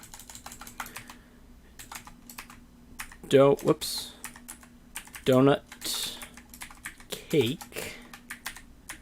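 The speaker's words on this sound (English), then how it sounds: "Oh my God, the typing is horrible." Quick bursts of clacking keystrokes on a computer keyboard, clustered in uneven runs with short pauses, close and crisp, while someone speaks briefly between them.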